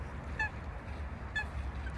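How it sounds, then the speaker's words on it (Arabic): Ducks on a winter lake in Newcastle, England, give two short honking calls about a second apart. A steady low outdoor rumble runs underneath. "ويوجد هناك بط"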